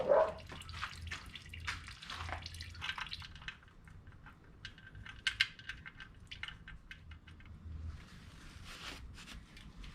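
Hot engine oil draining from a 2005 Ford Five Hundred, a continuous close trickling and dripping of liquid into a pan with scattered metallic clinks and faint movement throughout.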